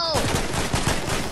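A quick burst of rapid gunfire from the video game Fortnite, loud and brief, with a person's voice mixed in.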